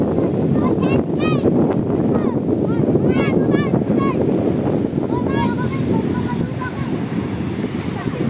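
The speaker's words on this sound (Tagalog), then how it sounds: "Oh, malaki ang alon." Rough sea with big waves and strong wind at evening near a coast with ships offshore: a constant roaring wash of surf and wind buffeting, while voices talk intermittently over it.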